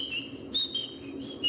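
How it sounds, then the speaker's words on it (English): A person whistling on a thin, wavering pitch in a quiet space, the tune rising and falling in short phrases over a low background hum, fairly faint and alone. "What you whistling for?"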